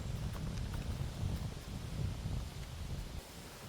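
Steady wind buffets the microphone on an open golf course, a continuous low rumble with gusts that swell and ease throughout, with no voices present.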